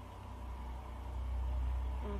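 Truck passing by outside, heard faintly from indoors as a low engine rumble that swells and lingers.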